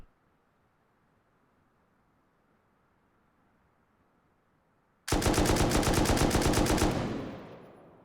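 An M249 machine gun in the Rust video game rips off a loud, sustained automatic burst of about two seconds with evenly spaced rapid shots, then fades into a short tail after near silence.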